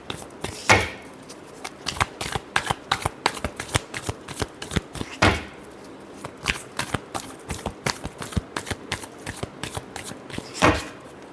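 Tarot cards shuffled by hand, close and crisp, in rapid bursts of riffling and snapping with short pauses between handfuls and a few louder bridging riffles.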